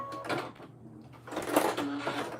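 Sewing machine back stitching in a craft session, soft intermittent mechanical whirring bursts with brief pauses between them, faint and close, with a voice briefly audible.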